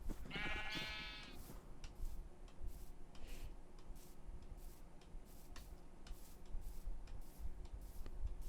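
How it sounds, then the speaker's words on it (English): Sheep bleating in the video game Minecraft, a short quavering bleat near the start over a steady low hum, followed by faint regular ticking clicks. "More sheeps. Come on, sheeps."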